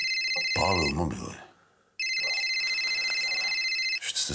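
Mobile phone ringing with a bright repeating electronic ringtone, loud and near, interrupted by a brief burst of voice before the ringing resumes steadily.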